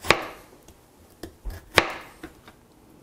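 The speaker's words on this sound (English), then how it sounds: "finish cutting this onion" A kitchen knife chops through an onion on a cutting board in several sharp, separate knocks with uneven pauses, close and clear with no talking.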